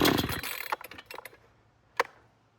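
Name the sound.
gas chainsaw engine running on choke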